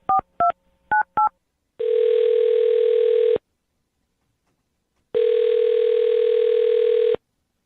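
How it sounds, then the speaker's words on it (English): Four quick touch-tone beeps of a number being dialed, then two long electronic ringback tones separated by a pause of silence. "I'm going to dial his phone number right now, get him on the phone"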